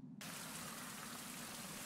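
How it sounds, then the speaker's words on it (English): Steady rain hiss in the video game Survival: Fountain of Youth starts abruptly and continues as an even, broadband wash with no talking. "I'm actually glad it's raining out."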